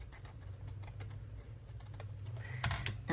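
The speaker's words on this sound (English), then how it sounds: "Now I got out my better scissors so that I could cut straight." Sharp craft scissors snip through paper while a mini folio journaling card is made, producing faint, quiet clicks and crisp cuts in a hushed room with no talking.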